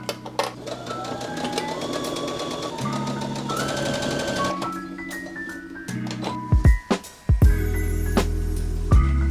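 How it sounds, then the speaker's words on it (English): A domestic sewing machine stitches garment fronts and backs together in short bursts of fast mechanical whirring that rise and fall in speed, ending with a few sharp knocks and louder handling noises. "And now I'm just sewing the fronts and backs together."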